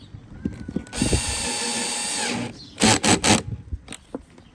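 A power driver spins a hose clamp down on the engine air filter housing of a BMW 535i F10 with the N55 engine, a loud close whir lasting over a second, then several short bursts.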